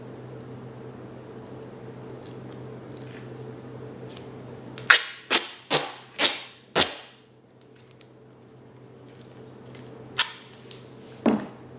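Duct tape is pulled and torn while a face mask is made at home: five quick, sharp ripping bursts in a row, then two more a few seconds later over a low background hum.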